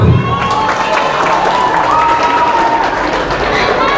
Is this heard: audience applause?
yes